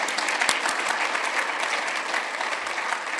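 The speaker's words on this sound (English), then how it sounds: "So please join me for a round of applause." A conference audience gives a round of applause at a law and artificial intelligence prize announcement: steady, dense clapping from many hands, evenly loud throughout the short stretch with no talking.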